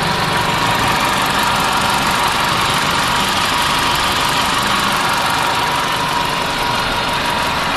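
A Suzuki Beidouxing car engine idles with the air conditioning switched off, a loud, close and steady mechanical hum with a slight rough knocking texture, unchanging throughout and with nobody speaking.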